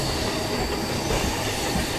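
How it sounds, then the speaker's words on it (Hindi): A local train runs on a parallel track near Hazrat Nizamuddin station in Delhi, loud and close, a continuous roar of wheels with rhythmic clatter and faint squeal throughout. "ये लोकल जो आई है ना ये नई दिल्ली की तरफ से आई है"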